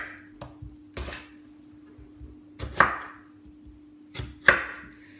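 A knife cuts potatoes into chips on a board for air-fryer chips, giving a few separate sharp chops spaced well apart, close and fairly clear, with a steady low hum underneath.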